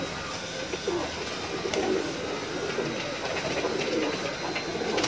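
Pigeons kept in a loft for high-flyer breeding, with a dense layer of cooing and bird calls at steady, moderate loudness throughout and no talk.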